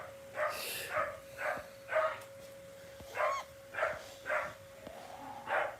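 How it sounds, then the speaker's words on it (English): A dog barks and yips repeatedly at close range, about nine sharp, evenly spaced barks over a low steady hum. "Fucking dog. What's the matter?"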